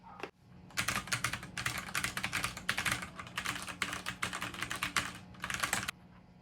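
Continuous fast typing on a Magegee MK STAR 75 mechanical keyboard, dense clacky keystrokes in quick uneven bursts, close and clear, stopping abruptly near the end, with no voices.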